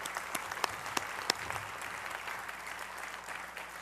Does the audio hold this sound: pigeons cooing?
no